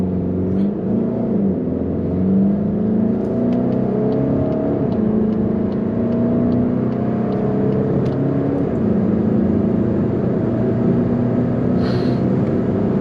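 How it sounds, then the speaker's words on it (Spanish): A 2021 Volkswagen Golf GTD diesel revs hard and launches from a standstill, the drone climbing through gears in a sustained loud roar with no talking. "Le lanzamos otro launch al coche desde cero."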